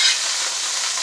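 Onions, ginger and cilantro paste sizzling in a pan over low-to-medium heat, a steady close hiss of frying with no talk.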